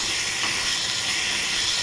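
Tempering of spices crackles and hisses in hot oil in a home kitchen while lunch is prepared, a steady close sizzle with no talk.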